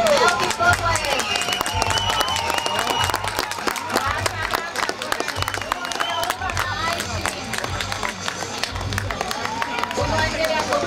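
A crowd applauds and cheers at a cattle penning competition, with steady, dense clapping and crowd noise carrying loudly through the whole stretch, and a voice over a public-address system talking on top.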